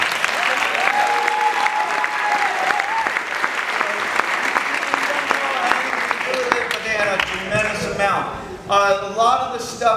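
Audience applause fills the room, a dense sustained clapping with scattered cheers that slowly thins and grows more ragged toward the end.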